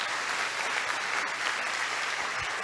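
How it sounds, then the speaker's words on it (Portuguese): A church congregation claps together in sustained, dense applause at a thanksgiving service, steady and fairly loud throughout with no talking over it. "Uma salva de palmas para Jesus, que Jesus merece."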